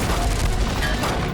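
Gunfire in a shootout comes as a dense run of heavy, booming shots with a low, rumbling echo, loud and close and with no voices over it.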